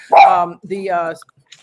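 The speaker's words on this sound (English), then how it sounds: "And sorry about my dog." A dog barks twice in quick succession, close and loud, with a short yelp after, indoors during a conversation.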